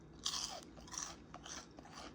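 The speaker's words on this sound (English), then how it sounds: "Let me take a bite of one of these tentacles just so you can hear the crunch." Crisp crunches from biting into a fried calamari tentacle, three or four close, loud bites spaced about half a second apart with quiet gaps between.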